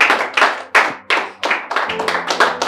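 A church congregation claps its hands in praise, producing a run of close, sharp claps in an uneven rhythm that grows denser and overlaps toward the end.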